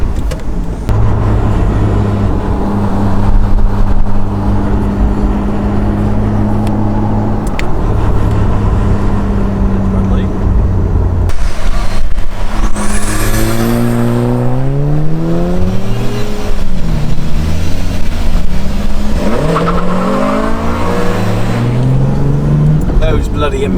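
A car engine revs and races on one-way roads, heard from inside a large car, with a steady loud drone and rising, falling pitch sweeps as it accelerates, under people talking.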